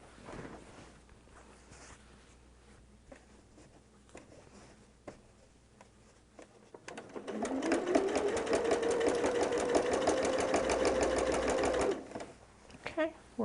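A sewing machine stitches through a Christmas quilt, starting after a stretch of quiet handling and soft talk, then running fast and loud for several seconds with a rising whine before stopping abruptly.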